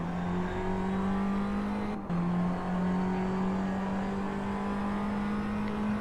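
Engine of a Tatuus open-wheel racing car in a sim racing game howls at a steady high pitch throughout, with a brief dip partway through as the car brakes into a hairpin and locks its front tyres.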